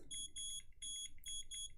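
A soldering repair station beeps in quick, high, tonal bursts while its settings are adjusted, forming three clusters of rapid electronic chirps at close range and low volume.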